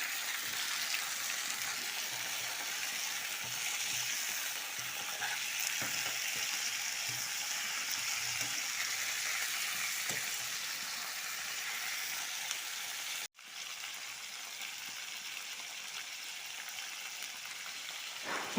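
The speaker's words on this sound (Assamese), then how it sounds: "আৰু এতিয়া মাংসখিনি দি দিছোঁ। এতিয়া আকৌ ভাজিম।" Meat and onions fry in a pan with a steady, dense sizzle that holds through, broken by a brief dropout near the end, with no voices.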